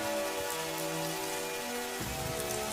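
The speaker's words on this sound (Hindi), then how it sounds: "बारिश शुरू हो गई।" Steady broadband hiss of rain falling, continuous and fairly even throughout, with a slight shift in tone partway through; no voices.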